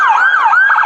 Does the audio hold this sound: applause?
no